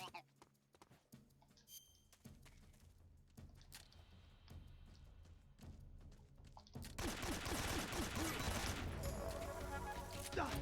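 Gunshots in the Metal Gear Online video game, with scattered shots and talk early on, then a dense, loud burst of continuous fire from about the seventh second onward.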